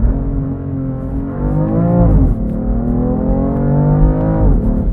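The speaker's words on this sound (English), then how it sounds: "that second gear shift is so violent because of the torque that this thing puts down" BMW F80 M3 CS with an aftermarket exhaust, revving hard and loud up through the gears close by. Engine pitch climbs, drops abruptly at a shift near two seconds, then climbs again toward another shift, with no talk.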